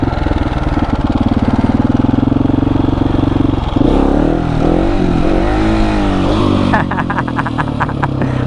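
A 701 motorcycle in first gear during wheelie practice, its engine droning loud and close with rising and falling revs, then a rattling, choppy burst near the end.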